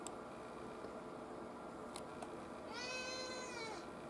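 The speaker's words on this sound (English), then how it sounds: "Oh, hello there, little kitty." A house cat indoors gives a single clear meow near the end, heard over a steady low background hum.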